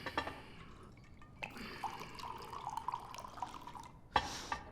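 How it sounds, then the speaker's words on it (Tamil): A round of drink poured into a glass, a short liquid trickle and drip with faint splashy detail, fairly close and quiet, with a brief louder clink or splash near the end and no talk over it. "முதல்ல இன்னொரு ரவுண்ட் ஊத்து."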